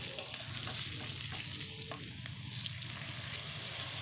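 Pointed gourd sautés with ground spices such as cumin and coriander powder while being stirred in a pan, giving a continuous close sizzle with soft scraping strokes, no voices.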